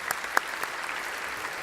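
Brief clapping from an audience at a gaming convention panel, a few distinct claps over a soft, diffuse patter that quickly thins out.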